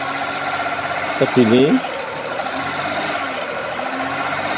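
Carbureted petrol engine of a Daihatsu Ceria with heavy fuel consumption and black exhaust smoke, idling steadily nearby with a continuous mid-pitched hum, while someone talks briefly over it.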